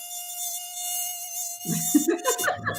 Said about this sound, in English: Mosquito around here.